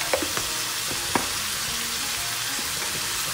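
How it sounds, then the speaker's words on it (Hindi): Spices frying in a pan for a lasagna sauce, a steady broad sizzle with a few soft stirring taps and scrapes, close and even throughout. "अच्छी तरह भूनना है और मैं साथ ही इसमें स्पाइसेस ऐड करूंगी"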